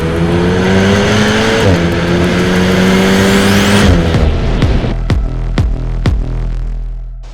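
A 2021 Alpine A110S mid-engined French sports car drives hard, its engine rising through revs, then easing off as sharp pops and crackles burst from the exhaust, loud and close.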